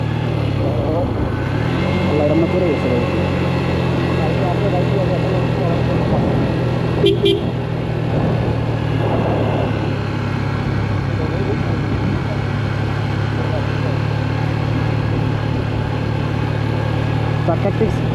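A motorbike engine-brakes down a steep mountain road from Keokradong toward Boga Lake, a steady low drone that holds throughout with a brief horn toot midway; someone talks over it now and then.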